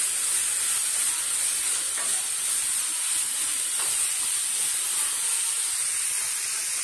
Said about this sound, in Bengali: সব গাজরগুলো দিয়ে আমি একটু ভেজে নেব।